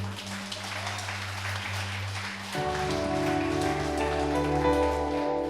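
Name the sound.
congregation applauding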